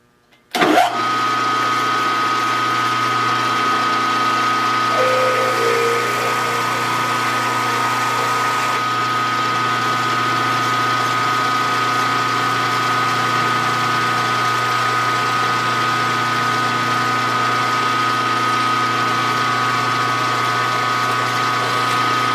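A steady mechanical whir runs for the whole stretch after a sharp start, a lathe spinning while drilling a 0.234-inch hole in metal for a small steam engine part, with no voices.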